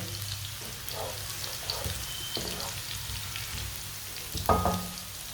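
Onion and garlic frying in very hot oil, a steady close sizzle and crackle with a brief louder stir-like burst near the end, no talking.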